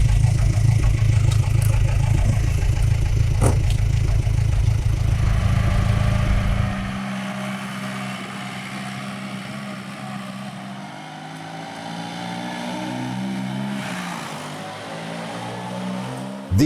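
A deep, rumbling engine of a vintage Bugatti Type 40 car idles loudly, then drops in level and shifts to a lighter running tone, with revs rising near the end.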